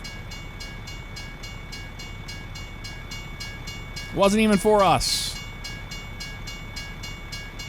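A freight train in American Truck Simulator's Louisiana map rolls by with a steady low rumble, then a loud two-tone horn blares for about a second midway; someone speaks briefly.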